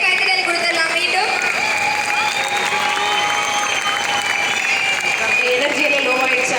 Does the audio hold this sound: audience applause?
yes